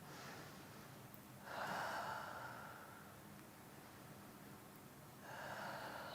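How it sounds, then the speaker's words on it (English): Slow deep breathing during a yoga stretch: a faint airy inhale swelling near the start and another breath returning at the end, quiet and close, with no talking. "Inhaling and exhaling."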